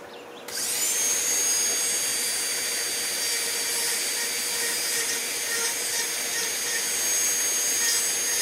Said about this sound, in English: Or you could try the uh, the micro motor or Dremel.